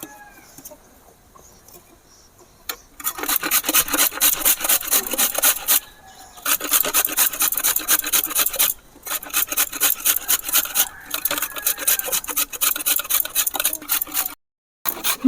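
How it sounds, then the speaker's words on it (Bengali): Vegetables for crispy vegetable chops are grated by hand on a metal grater. Loud, close rasping strokes come in fast rhythmic bursts, broken by a few short pauses. "এগুলো সব আমি গ্রেটারের সাহায্যে গ্রেট করে নেব"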